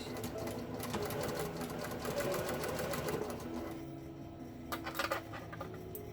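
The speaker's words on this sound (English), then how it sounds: "Now we're just going to go all the way around and do a nice pretty little top stitch." A sewing machine runs a continuous buzzing top stitch around the edge of a fabric face mask, loud and close, with a pause and a few light clicks near the end.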